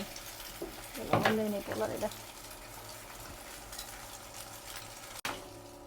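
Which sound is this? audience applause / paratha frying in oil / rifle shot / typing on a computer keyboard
paratha frying in oil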